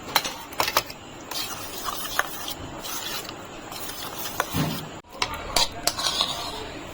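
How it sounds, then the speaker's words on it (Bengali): A spoon mixes milk into a small amount of yogurt in a bowl, making scattered clinks and scrapes against the sides over a low rubbing stir, fairly close and without speech. "এখন আমি একটু এর মধ্যে দুধটা দিয়ে মিশিয়ে নেবো দইটা"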